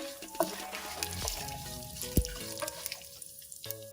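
Green chilies and curry leaves fry in hot oil on a stove for pulihora, a soft steady sizzle with occasional clinks and stirring scrapes, fairly quiet throughout.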